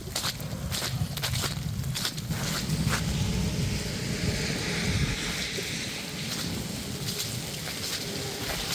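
Footsteps crunching over ice-coated grass during a spring ice storm, a steady loud crunching rhythm close by with rain-like crackle throughout.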